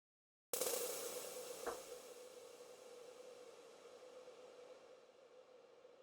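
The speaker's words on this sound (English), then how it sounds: "It basically freezes the reverb in place of where it's at in the reverb" A frozen reverb tail in VCV Rack 2 Pro that starts abruptly and then holds as a steady synthetic wash with a faint tonal hum, slowly fading, with one small click partway through.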